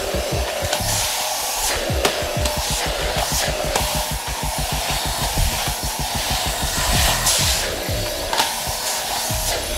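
A Rowenta Compact Power Cyclonic bagless vacuum cleaner, 750 W with a 1.5 L bin, runs steadily with a loud, close, whooshing motor roar and rapid rattling pulses underneath, continuous throughout without speech.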